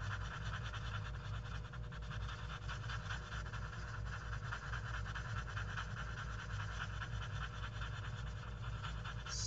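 A blender pencil rubbed over colored pencil on paper gives a close, steady scratchy rasp of repeated short strokes, continuous and fairly quiet over a low background hum.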